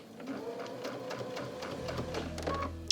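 A sewing machine fitted with a walking foot stitching a quilt using small stitches, a close, steady rapid chatter of needle strokes at moderate volume, with no speech.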